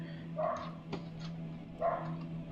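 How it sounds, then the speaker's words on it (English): A dog barks a few times nearby, two longer yowling barks with a short yip between, over a steady low hum. "I can't with the dog, sorry."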